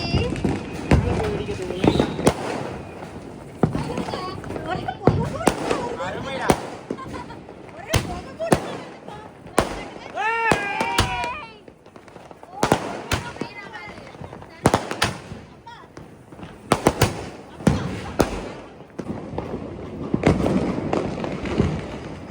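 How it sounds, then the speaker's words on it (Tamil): Diwali firecrackers burst one after another in sharp, loud cracks at irregular intervals, some close together in quick runs, with a whistling rocket in the middle and people talking and calling out between the bangs. "என்ன மாதிரி வெடி?"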